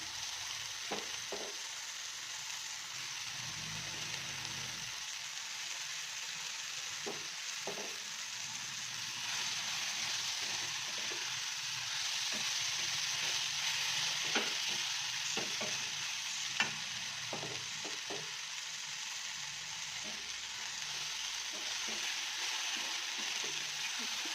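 Okra frying in a pan with tomato gives a steady close sizzle, broken by occasional soft scrapes and taps of a spatula stirring through it.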